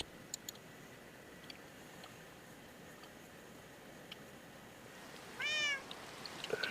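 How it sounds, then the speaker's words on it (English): A cat in the Minecraft modpack Enigmatica 2 gives a single clear meow near the end, after several seconds of quiet ambient noise and faint ticks. "And there's a cat."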